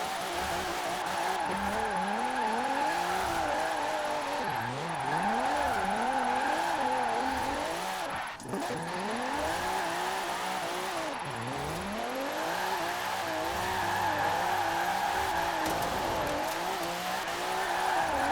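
A retro Alfa Romeo race car in Forza Horizon 4 roars steadily, its engine rising and falling through repeated revs and gear changes with a brief lift in the middle, loud and continuous throughout.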